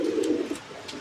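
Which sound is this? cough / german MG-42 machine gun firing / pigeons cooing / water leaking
pigeons cooing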